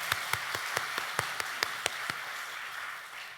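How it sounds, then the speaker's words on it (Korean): A church congregation claps after a choir's hymn, a string of sharp, fairly regular claps that thin out and fade within a few seconds, with no talking. "다시 한번 큰 박수 부탁드립니다"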